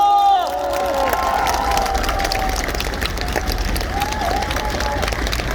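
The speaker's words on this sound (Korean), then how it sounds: "큰 박수로 맞아주시기 바랍니다." Crowd at an outdoor presidential campaign rally in a station plaza cheering and clapping steadily, with scattered shouts and a loud, dense roar throughout.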